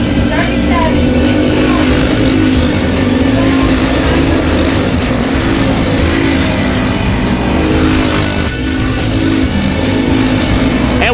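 Race cars at Lake City Speedway roar loudly and continuously as they circle the track, with engine drone and revving, while an announcer talks over them.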